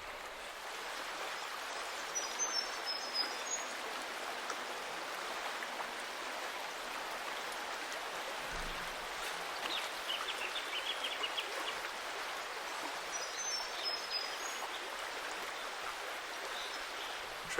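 Steady broadband rush of a river flowing while wading up it on a trout fishing trip, continuous and even throughout with faint bird calls above it.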